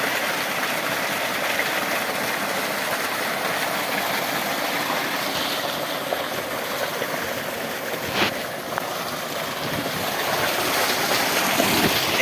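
A 7.5 HP water pump motor pushes water through a 4-inch delivery pipe into a large field, making a steady rushing gush of flowing water over a constant engine drone that holds unchanged and close throughout.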